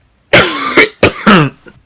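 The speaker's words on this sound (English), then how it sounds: "I just had a coughing fit." A short burst of harsh coughs, three or four hacking bursts in quick succession, close and loud.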